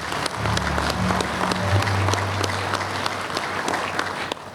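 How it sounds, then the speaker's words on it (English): A veterans' department convention audience applauds, with steady, moderately loud clapping filling the hall. "give them a round of applause, please"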